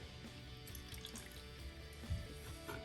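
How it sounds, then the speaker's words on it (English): Water poured into a pot, faint trickles and soft splashes for a few seconds, a quiet pouring sound with no voices. "Now I'm going to add my water."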